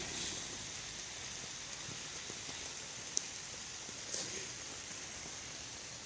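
Steady rain falls outdoors during mushroom picking, a faint, even hiss of drops with a couple of brief louder taps and no talking.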